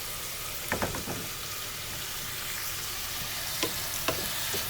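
Dal tempering in hot oil gives a steady, soft frying sizzle with a few brief louder crackles and pops near the start and again toward the end, close by with no voices.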